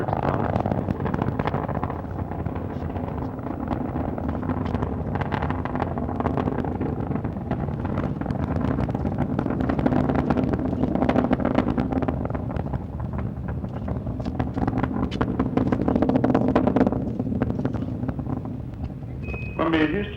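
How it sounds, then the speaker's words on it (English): Space Shuttle Columbia's three engines roar during the STS-52 launch, a continuous, distant, wind-blown rumble under radio voices. "3 engines on Columbia now back at full throttle"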